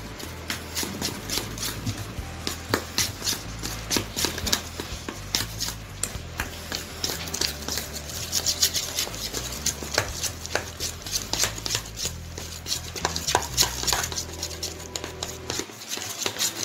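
Chocolate banana cupcake batter mixed by hand in a bowl, a close, continuous run of soft rhythmic knocks and scraping strokes with no speech.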